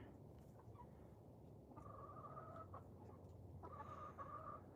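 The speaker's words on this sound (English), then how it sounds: "See that fancy rooster there?" Short clucking calls from a rooster on a homestead, a couple of drawn-out bursts rising over a steady low background hum, moderately near.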